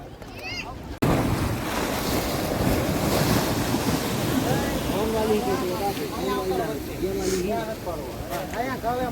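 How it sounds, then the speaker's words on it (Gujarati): Big sea waves break and surge continuously along the shore, loud and close, with wind buffeting the microphone. People talk over the surf throughout. "જો બધા કેવા મોટા મોટા મોજા આવે છે."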